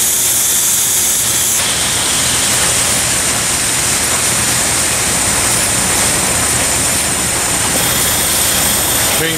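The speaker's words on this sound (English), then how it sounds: "Or the paint tank comes up, I should say." An electric STC dip spin machine runs with a loud, steady broadband hiss and mechanical roar as its paint tank rises toward the parts basket. The noise is close and continuous throughout, with a slight shift near the start.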